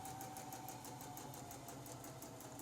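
A sewing machine stitches a row across a quilt, its needle chattering in a fast, even rhythm that runs unbroken and fairly faint throughout.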